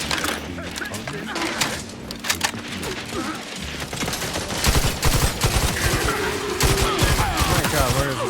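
Sustained gunfire in The Outer Worlds 2, rapid overlapping shots and bursts layered with game effects, loud and continuous throughout, growing denser in the second half, with a voice talking underneath.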